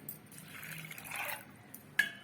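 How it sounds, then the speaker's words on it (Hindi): A short splash of a glass of water being poured into a pressure cooker of dal, a brief gurgling stream followed by a small clink. "पानी 1 गिलास डाल दिए हैं।"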